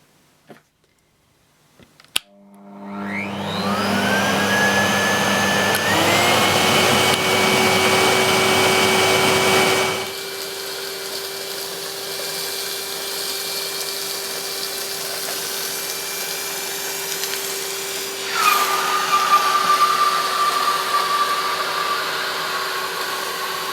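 A vacuum cleaner named Hetty runs on full power with a carpet and floor nozzle after a sharp click, giving a steady loud whine with a shifting motor pitch and a rising surge as the nozzle passes over a messy carpet, with no one speaking.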